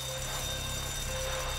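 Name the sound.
alarm ringing during bank robbery in video game Grand Theft Auto 5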